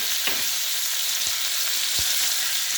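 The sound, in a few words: lobster claws frying in a pan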